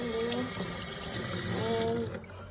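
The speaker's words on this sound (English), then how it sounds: "We're just gonna remove all the water" Water pours steadily out of a hermit crab house, a continuous close splashing flow like a running faucet that carries on for about two seconds, then tapers off and stops.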